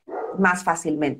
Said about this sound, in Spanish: disculpen el perro, mi perro está ladrando.